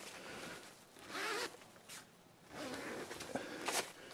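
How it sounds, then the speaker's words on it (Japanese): Zipper being pulled open on the upper section of a Coleman Touring Dome ST+ tent's inner door, several close, raspy pulls in short bursts with brief pauses between them and no talking. "上の方のチャックを開けるとこんな感じ"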